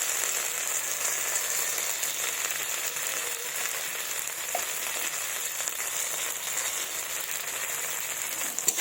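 Tomato with spices fries in a pan, making a steady, dense sizzle that stays even and continuous at close range, with no voices over it.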